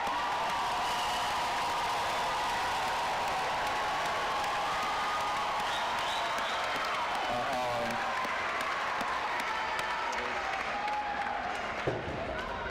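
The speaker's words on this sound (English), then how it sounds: "And now let's give all of our graduates a round of applause." Commencement audience at the SUNY Broome graduation ceremony gives the graduates a round of applause, dense sustained clapping filling a large hall at steady volume for several seconds, with scattered cheers and murmured voices mixed in.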